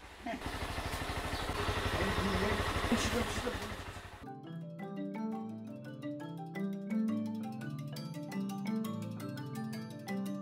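A motorcycle ridden from Bhaktapur along the Bagmati riverbank and fast track toward the Sisneri River, its engine rumbling steadily and filling the first few seconds before music takes over.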